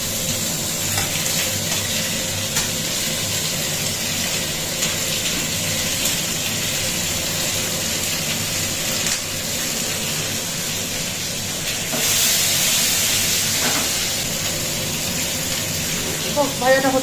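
Fish sizzles steadily in hot oil in a frying pan, a continuous close hiss and crackle that runs throughout while someone talks over it.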